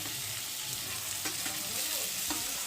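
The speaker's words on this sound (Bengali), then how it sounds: "এবার ভেজে রাখা ফুলকপিটাকে দিয়ে মশলার সাথে কষিয়ে নেব" Fried cauliflower sautés with spices in a pan, making a dense, continuous close sizzle throughout with faint scraping, and no one speaking.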